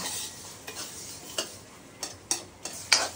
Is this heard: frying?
yes